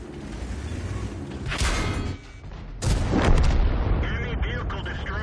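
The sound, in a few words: tank cannon firing in World of Tanks video game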